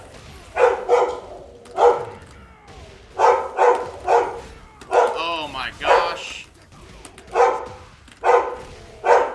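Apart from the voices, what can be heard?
dog barking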